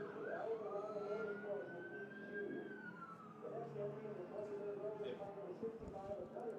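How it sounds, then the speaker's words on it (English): Emergency vehicle sirens wail and sweep in pitch as they come down the pit lane during the 25 Hours of Thunderhill endurance race, steady and moderately near, with people talking over them. "That's why we're hearing the emergency vehicles."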